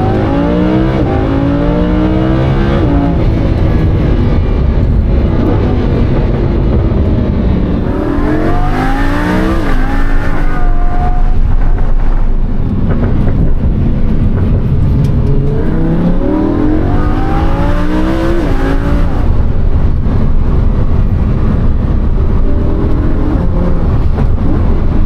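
A Lamborghini Huracan engine roars loudly and continuously from the driver's seat, rising in pitch through repeated acceleration sweeps and gear changes over a constant road rumble.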